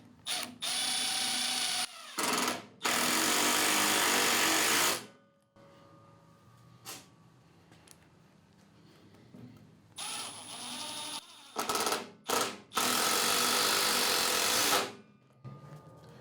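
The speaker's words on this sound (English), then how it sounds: "I'm just going to run a couple screws through, and I have a lag bolt." A Milwaukee Fuel M12 impact driver hammers decking screws home in long, loud bursts of rapid rattling impacts, separated by short pauses and quieter spells with a few light clicks.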